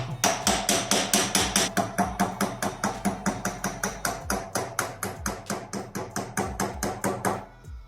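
Rapid, steady hammer blows ring out while wheels are mounted, around forty sharp metallic strikes in a quick, even rhythm, loud and close, stopping abruptly.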